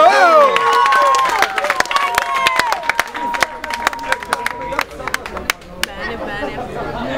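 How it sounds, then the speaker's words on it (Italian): A crowd at a punching ball challenge event claps and cheers amid lively overlapping chatter and shouting voices. Sharp scattered claps continue as the noise tapers off. "Un applauso, ragazzi!"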